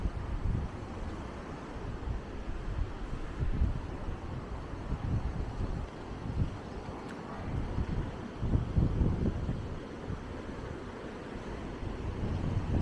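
Wind picking up through trees in the early morning at Maspalomas, Gran Canaria, a steady broad rushing that swells and eases in gusts, with some microphone buffeting and a faint distant rumble beneath.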